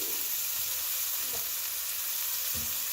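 Sun-dried tomatoes and chicken sizzle together in a pan for a creamy Tuscan chicken, a steady close frying hiss with a few soft stirring bumps.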